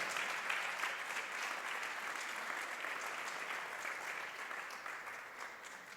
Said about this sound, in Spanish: Dele fuerte un aplauso a Dios